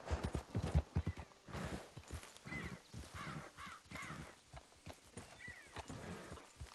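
A horse's hooves clip-clop at a walk in Red Dead Redemption 2, moderately close, with a brief snort or whinny and crow-like caws mixed in over a quiet outdoor game ambience.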